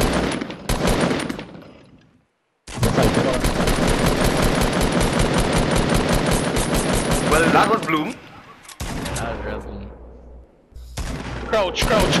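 Gunfire in Fortnite Battle Royale, with long rapid automatic bursts of loud, dense shots, a short gap, then further volleys, and players talking between them.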